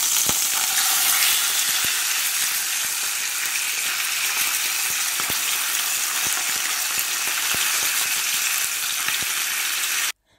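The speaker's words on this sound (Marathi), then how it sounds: "नुस्तें दोन्ही सायडीक फ्राय जाला" Pomfret fish sizzling in a frying pan, a steady close hiss of hot oil running unbroken for about ten seconds with faint ticks and pops, then cutting off abruptly.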